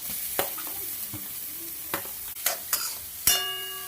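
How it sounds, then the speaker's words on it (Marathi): Chopped onion frying in melted butter for pav bhaji, a constant close sizzle broken by several sharp clicks and scrapes of a spoon stirring against the pan. "आता त्यात कांदा घालूया चिरलेला"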